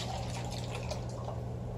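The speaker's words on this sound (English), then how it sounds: "So I'll just pour off a little bit of it" Water poured off from a container into a cup, a soft continuous trickle with light splashing, quiet and close over a low steady hum, no talking.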